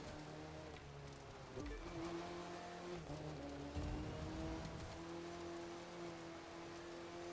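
Race car engine in a rallycross race in The Crew 2 video game: sustained tonal engine drone with harmonic bands that shift pitch through gear changes, with brief bursts and a rising whine, steady and close.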